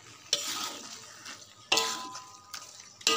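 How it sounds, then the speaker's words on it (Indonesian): Shredded eel floss with bay leaves stirred in a pan: four sharp scraping strokes of a utensil against metal at irregular intervals, each trailing into a soft dry rustle and faint sizzle. "Dan harus kita aduk terus seperti ini."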